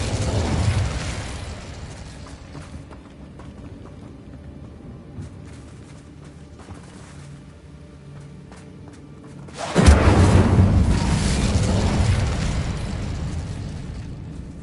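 A fire spell in the game Hogwarts Legacy erupts as a sudden loud, booming burst of flame at about ten seconds, roaring on for several seconds after quieter background action, with no talk.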